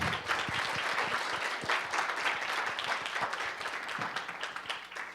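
Warm applause from an audience at an awards ceremony, many hands clapping in a lively, slightly uneven patter that stays steady and moderately distant for several seconds, thinning a little near the end.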